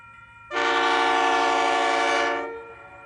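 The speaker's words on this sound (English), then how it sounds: "Train UL243 to Ulan powers away after awaiting clearance onto the main line at Coggin Loop." A loud, sustained train horn blares for about two seconds, rich and tonal, then fades, with a low rumble underneath, as a heavy coal train powers away from a passing loop onto the main line.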